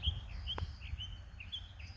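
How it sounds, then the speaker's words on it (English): Small birds in an October fall garden give faint, brief chirps in a loose, repeating pattern over a low background rumble of distant traffic. "Just listen to those birds."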